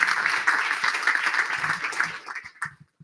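Moderate applause and scattered cheering from a pub crowd at a politics night, steady for two seconds and then fading out into a few last claps.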